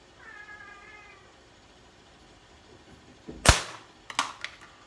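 A rubber-band slingshot fires at a target during focused shooting practice, giving one sharp, loud snap and impact followed by a couple of smaller clacks, with a faint high meow-like tone early on and no talking.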